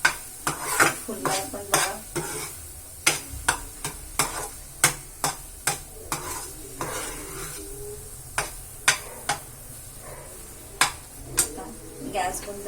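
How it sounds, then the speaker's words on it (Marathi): Sheera, a sweet fasting pudding, stirred in a pan after cardamom powder goes in: a series of sharp spoon scrapes and knocks against the metal pan over a soft sizzle, close by, with someone briefly talking in between. "आता आपण यामध्ये जी विलायची पावडर आहे ती घालून एकदा छानपैकी हलवून घेऊया।"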